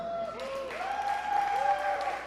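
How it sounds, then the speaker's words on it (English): An audience at an edutainment workshop forum claps for a participant, a moderate rolling patter of hands under a faint tonal whistle-like sound, fairly steady across the short stretch. "Clap for the man"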